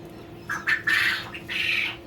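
Newly hatched chicks peep and squawk inside a CT180 Hatching Time incubator, with a few close, loud, shrill calls over a steady hum and no speech.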